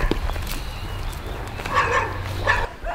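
Guard dogs in a municipal housing neighborhood in Florencio Varela bark in short bursts amid noisy outdoor street ambience, fairly close.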